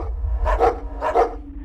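Two pairs of sharp, close dog barks, each a quick double woof, sound over a low steady rumble.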